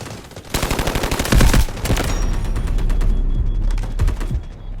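Rapid automatic gunfire with loud bursts and bass-heavy barrage impacts in the mobile shooter game Delta Force Mobile, dense and continuous with no talk.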